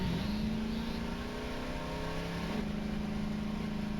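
Vehicle engine in Voices of the Void revving at a steady, strained mid pitch, a constant droning whir that dips briefly and climbs again, with no talk over it.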